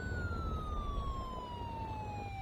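A steady video game siren wail gliding slowly downward in pitch over a dense low rumble, loud and continuous throughout.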